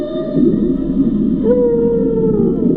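Humpback whale song recorded near the Virgin Islands: long, sustained moaning tones with a rising, sliding call partway through, steady and fairly loud over a low rumbling undersea background, no talk.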